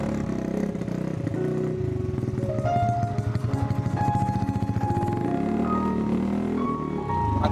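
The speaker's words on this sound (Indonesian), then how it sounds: "Kakak itu naik motor, bukan jalan kaki." A motorcycle rides past, its mid-pitched engine note droning steadily with shifting pitch and revving, loud and close, alongside some rattling clatter and tonal sounds, with no talking.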